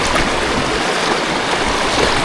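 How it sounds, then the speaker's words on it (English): Goulburn Creek, a river along a bush walking trail, rushes in a loud continuous broadband wash of flowing water, steady and close with no other sounds. "Oh, this is Goulburn Creek,"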